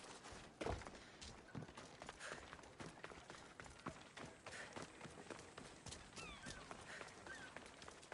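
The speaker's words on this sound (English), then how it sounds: "That's a nice horse" Horse hooves clip-clop in Assassin's Creed Odyssey, a steady run of close, fairly quiet thuds over a busy game soundscape with scattered sharper knocks.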